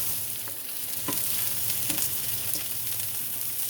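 Chopped vegetables fry in a pan for an omelet, giving a steady close sizzle with a few brief stirring clicks and no talk.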